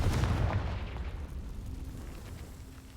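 Confringo, a fire-blast spell cast in a magical open-world video game, bursts with a deep boom right at the start, then a rumbling tail that slowly fades over the next few seconds.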